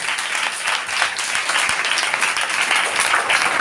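Congregation at a Telugu Christian sermon clapping, a steady, dense wash of many hands held at an even loudness for the full stretch, with no voices rising above it.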